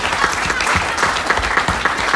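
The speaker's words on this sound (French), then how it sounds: "on peut applaudir encore Pierre" Audience applause at a gathering in a church, a dense steady clapping from a crowd that fills the space at moderate loudness, with individual claps standing out throughout.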